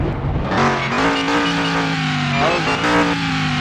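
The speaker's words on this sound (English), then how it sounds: "So now let's rev it a little." A restored 1978 Pontiac Firebird at a speed track, its engine revving in a loud, close, rising and falling drone with a clear pitch that swells, dips and climbs again.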